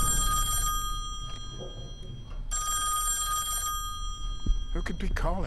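Telephone ringing in the Song of Horror video game, a shrill bell ringing in two long bursts with a gap between, over a low rumbling ambient background.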